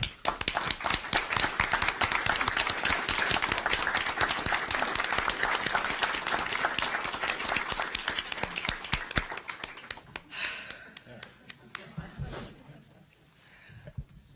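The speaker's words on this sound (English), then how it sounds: "a big round of applause." Sustained, dense clapping from an audience at a library board meeting, loud and continuous for about ten seconds before thinning into scattered claps and murmured talk.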